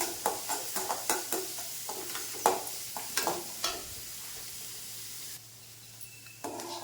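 Chopped onions being stirred and sautéed in a pan for a spinach and egg stir-fry: repeated scraping strokes of a spatula over a soft sizzle, fairly close, fading to a quieter hiss near the end.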